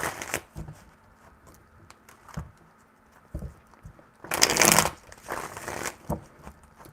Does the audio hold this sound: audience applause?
no